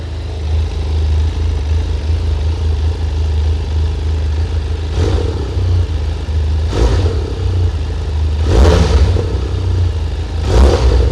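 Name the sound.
Benelli TRK 502 parallel-twin motorcycle engine starting and revving exhaust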